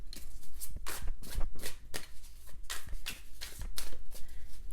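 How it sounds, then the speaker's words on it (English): A deck of fortune cards gets shuffled by hand, close and crisp, with a quick series of riffling, slapping bursts repeating in an uneven rhythm with no talking. "let me pull some fortune cards for you guys"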